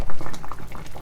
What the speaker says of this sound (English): when this comes to boil, allow it to simmer for 10 minutes